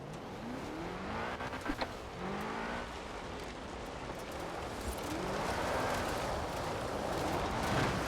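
BMW M5 engine revving hard while drifting in Forza Horizon 4, rising and falling engine tones with tire noise, loud and continuous throughout.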